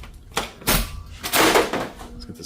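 A big metal-and-wood door in a back room of a business space swings open or shut, giving a few close, heavy thuds and scraping knocks over a couple of seconds.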